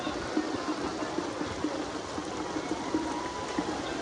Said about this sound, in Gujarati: વરસાદ ભાઈ બહુ ફૂલ છે હવે